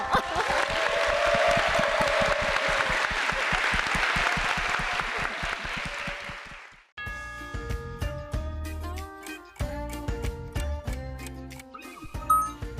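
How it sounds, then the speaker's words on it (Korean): Students at a school talk event applaud a young speaker, a dense, steady clapping crowd that swells and then fades out, followed abruptly by a bright, tinkling musical jingle. "우리 한번 큰 박수 보내주시면 어떨까 싶어요"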